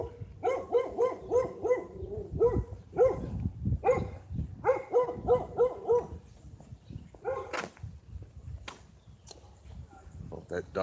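A dog barks repeatedly in quick clustered volleys at moderate distance, with yips and whimpers mixed in, amid outdoor background noise; some speech-like sound is present.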